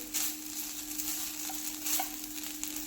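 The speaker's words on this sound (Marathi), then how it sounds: "हाय फ्लेमवरतीच भाजून घेते मी पण पटपट हात हलवायचा" Grated coconut roasting in ghee over a high flame, stirred quickly and constantly: a steady close sizzle with scraping strokes of the spoon against the pan.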